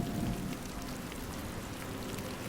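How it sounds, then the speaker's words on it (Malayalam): First rain of the season falling steadily, a soft continuous hiss of drops on surfaces with a brief heavier patch at the start, no voices. "ആദ്യ മഴ, അതിൻ്റെ ഗന്ധവും നനവും ഇന്നു തന്നെ."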